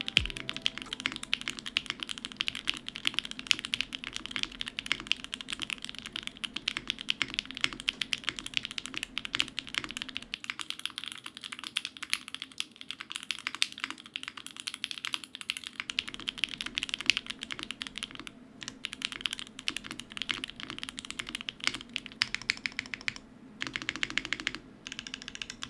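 Steady, crisp typing on a Neo series mechanical keyboard, a continuous close run of clean keystrokes with a brief pause partway through and no talking.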